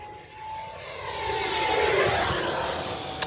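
Arrows Viper 50mm electric ducted-fan RC jet on a 4S 2200mAh pack screaming past at full throttle, a loud sustained high-pitched whine that swells as it nears and then stays strong, with no talking.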